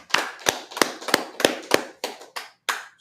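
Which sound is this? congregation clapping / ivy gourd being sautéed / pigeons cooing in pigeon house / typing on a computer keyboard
congregation clapping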